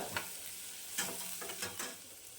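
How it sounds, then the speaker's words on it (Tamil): Vegetables, with bell pepper, sizzle and hiss in a hot pan, with a few sharp scraping stirs of a spatula punctuating the steady frying. "அதையும் சேர்த்து நல்லா வதக்கிவிடலாம்"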